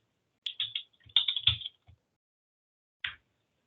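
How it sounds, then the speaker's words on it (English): C code being typed on a computer keyboard: close, crisp bursts of rapid key clicks, a short pause, then one last cluster of keystrokes, with no voices. "Let me type it in here."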